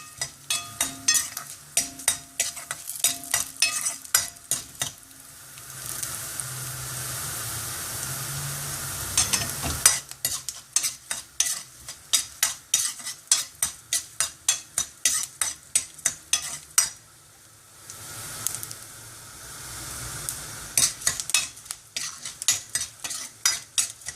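Ginger and green chili fry in hot oil in a pan, a steady sizzle under repeated scraping and stirring strokes with a utensil, close and fairly loud, with short pauses between bursts of stirring.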